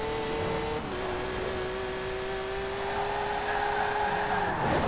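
A 1963 Volkswagen Beetle in Forza Horizon 4 drones along at high speed, its engine holding a steady buzzing tone that dips briefly early on, then climbs again near the end, close and loud with no talk.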